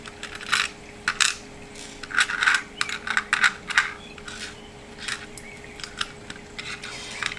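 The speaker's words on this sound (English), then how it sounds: "We got some coins here too." Loose coins drop and clink against one another in a series of sharp, bright metallic taps and jingles, some bunched together and some spread out, close by with no talking.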